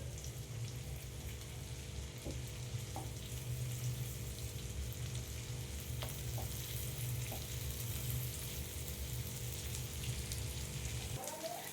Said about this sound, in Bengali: আমি এবার ওপর দিকটা এভাবে উল্টে পাল্টে ভালো করে ভেজে নেব চিকেনগুলো